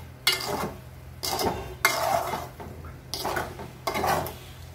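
Semai vermicelli with coconut being stirred in a pot: a spoon scrapes and clinks against the metal in four or five distinct bursts separated by short pauses, close and fairly soft, with no talking.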